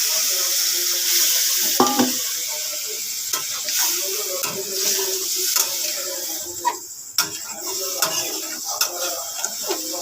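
Water poured into a hot cooking pan for a Bengali papaya and potato curry, hissing and sizzling steadily alongside scattered clinks of stirring for ten seconds, with no talking.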